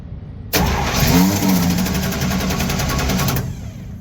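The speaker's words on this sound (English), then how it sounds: "so we can turn over the engine with the ignition off" A Chevy C10 straight-six engine cranks over steadily on its starter with ignition off during a compression test, about three seconds of rapid rhythmic chugging, loud and close, then stops.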